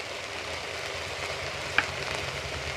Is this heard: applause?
no